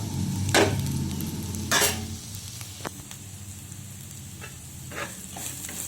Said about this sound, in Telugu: ఇప్పుడు తురుము పెట్టుకున్న కొబ్బరి వేసేసుకుందాం మనం దొండకాయ ఫ్రైలో.